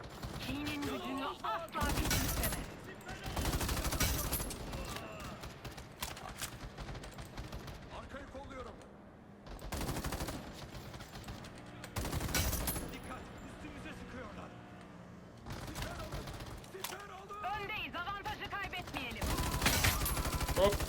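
Gunfire in the online shooter Battle Teams 2 comes in repeated loud bursts of rapid automatic shots separated by quieter gaps, with a player talking over the game action.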